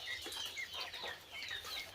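Tiger-breed chickens on a small desi poultry farm cluck and chatter in short, overlapping calls, fairly close and moderately loud, with no voices among them.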